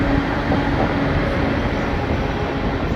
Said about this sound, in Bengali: 5 মিনিট দাঁড়ানোর পর আসানসোল থেকে ট্রেন ছেড়ে দিয়েছে।